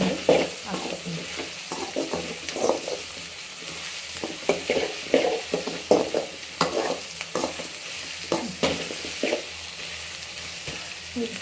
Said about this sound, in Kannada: ಈಗ ಸ್ವಲ್ಪ ಒಂದು 5 ನಿಮಿಷ ಚೆನ್ನಾಗಿ ಈರುಳ್ಳಿ ಎಣ್ಣೆಯಲ್ಲಿ ಫ್ರೈ ಆಗಲಿಲ್ಲ.